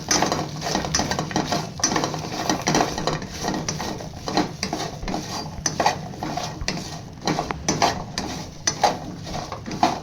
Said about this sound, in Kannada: ಸ್ವಲ್ಪ ಅರಿಶಿನದ ಪುಡಿ ಹಾಕ್ಕೊಂಡು ಹುರ್ಕೊತಾ ಇದ್ದೀನಿ